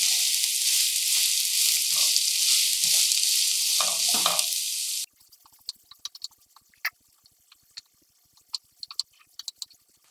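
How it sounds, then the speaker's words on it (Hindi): Finely chopped onions fry in hot oil with a loud, dense sizzle for several seconds, which then drops abruptly to faint scattered crackles and pops. "तेल गर्म हो रहा है, हमने अपनी इसमें प्याज डालना स्टार्ट किया।"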